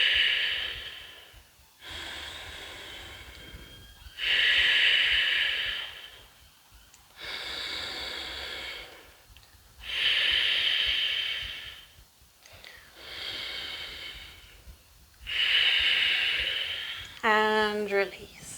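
Long breathy exhalations during a yoga session, repeated about five times at a slow, even pace, each airy rush swelling then fading into quiet, closing with a brief voiced sigh.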